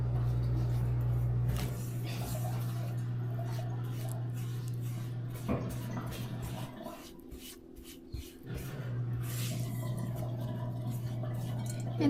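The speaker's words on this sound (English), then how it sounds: "what you want to do is mix this up" Cinnamon recipe ingredients are mixed in a bowl, giving intermittent scraping and light clinking strokes over a low steady hum, with a brief quieter pause partway through.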